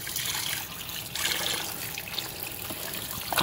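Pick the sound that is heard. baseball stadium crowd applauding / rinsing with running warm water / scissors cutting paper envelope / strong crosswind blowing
rinsing with running warm water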